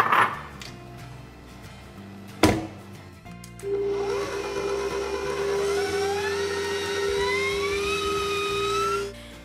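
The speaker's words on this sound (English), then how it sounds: "I'm going to be using a stand mixer with the whisk attachment" Stand mixer with a whisk attachment whisking eggs and sugar in a bowl: a few knocks, then a loud, steady motor whir with a rising whine that runs continuously for several seconds before stopping.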